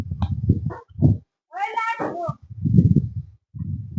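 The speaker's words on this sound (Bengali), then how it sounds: "এই যে একটা বিড়াল, এই যে বিড়ালটা দৌড়াচ্ছে" A cat running about outdoors gives one clear, drawn-out meow in the middle, surrounded by close, loud talking before and after.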